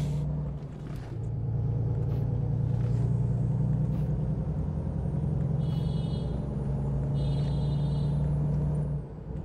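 Truck engine in American Truck Simulator driving toward the highway, a steady loud low drone with a constant hum and faint higher whines, no talking.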